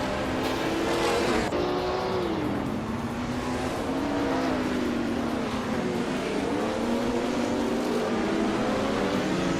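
Race cars in a racing video game, engines droning and whining as pitch rises and falls through gear changes, with a car sweeping past early on, loud and continuous.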